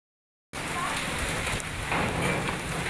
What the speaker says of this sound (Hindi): बारिश आ गई, बारिश